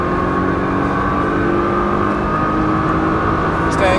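A Nissan GT-R pulls hard at full throttle through the streets of Las Vegas, a loud sustained engine drone building in pitch from inside the car while an instructor talks over it.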